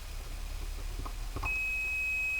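A multimeter testing a microwave oven capacitor gives a single steady, clear beep that starts partway through and holds to the end, over a faint background hum.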